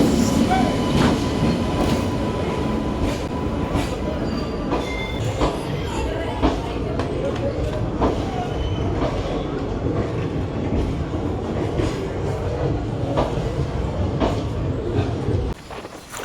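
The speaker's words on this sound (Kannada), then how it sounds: "ಇವಾಗ ನಮ್ಮದು ಟ್ರೈನ್ ಬರ್ತಾ ಇದೆ." A passenger train arrives at a station platform, a loud continuous rumble of rolling cars with rhythmic wheel clacks and faint squeals, fading out abruptly at the end.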